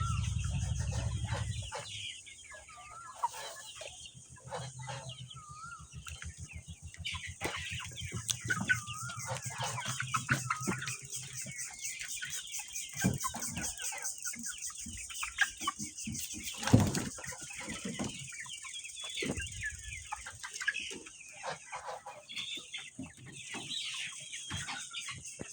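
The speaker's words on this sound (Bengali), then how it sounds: "এ হলো আমার দর্শক বন্ধু লেয়ার মুরগি।" Two-month-old layer hens raised for eggs cluck steadily in a coop, with soft overlapping calls and bursts of wing flapping throughout; a loud low rumble opens the scene before the flock's chatter carries on alone.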